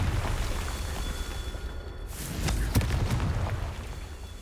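A Confringo spell blast in Hogwarts Legacy, a booming burst landing midway through a steady low rumble of game ambience, followed by a few sharper pops.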